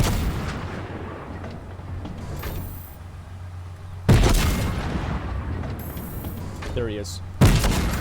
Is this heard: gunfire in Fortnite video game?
yes